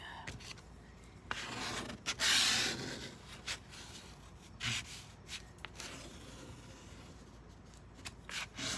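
Hands rubbing down a freshly glued journal cover, a soft scattered rasping and rubbing with brief louder swipes, close and quiet, no talk.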